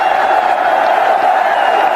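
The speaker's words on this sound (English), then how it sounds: "Big cheer here." Cricket stadium crowd cheering during a one-day international, a dense continuous roar of many voices held at a loud, even level.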